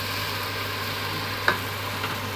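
Chopped long beans sauté in a pan for a Jaffna-style curry, giving a steady, even sizzle with one brief clink partway through and no voices.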